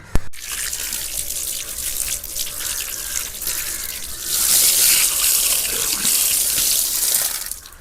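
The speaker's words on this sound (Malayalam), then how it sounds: "വെള്ളത്തിൻ്റെ ഫോഴ്സ് ഇപ്പോൾ ഇത്രയും ഉണ്ട് കേട്ടോ" Water gushes from a pipe or tap during a water filtration connection job, a steady close rushing splash that grows stronger partway through and keeps pouring to the end; no voices.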